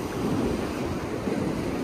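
Sea waves wash continuously onto the rocky shore at Harihareshwar beach as the tide comes in, a steady close roar of surf mixed with wind, no one speaking.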